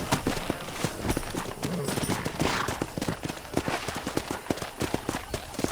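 Horse hooves clip-clopping in Red Dead Redemption (2010) while riding after wild horses on a ranch, a rapid, close, rhythmic patter of hoofbeats throughout, with occasional speech-like voice sounds mixed in.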